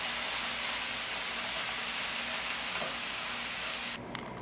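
Spinach with a little salt sautéing in a pan, a steady close hiss and crackle that carries on evenly before abruptly dropping off near the end.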